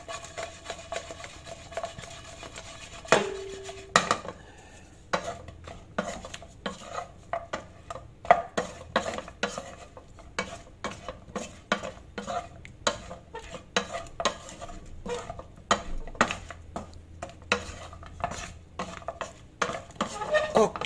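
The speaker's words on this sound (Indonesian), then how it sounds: "Yang penting diaduk sampai rata aja." Potato chicken being stirred through sauce in a pan, a steady run of soft scraping and clinking from the utensil against the pan, quiet and close.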